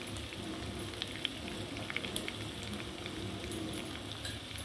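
Tomato, green chilli and potato frying in a pan, a soft continuous sizzle with small pops and crackles, fairly faint and steady without talking.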